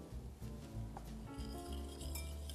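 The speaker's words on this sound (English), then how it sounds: "you just wanna whisk really quickly so that the eggs don't cook like a scrambled egg in your chocolate mousse" Rapid whisking of a warm vanilla mixture into eggs for chocolate mousse, a quick, continuous scraping and clinking of a whisk against a bowl, close and fairly quiet.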